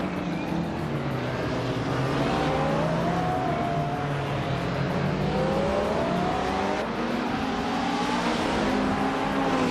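Several race cars roar off the start line together in a racing game, a dense, continuous engine drone with rising pitch sweeps as they accelerate, loud and steady throughout.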